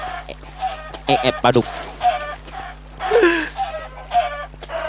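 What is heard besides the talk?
chicken clucking in the video game Minecraft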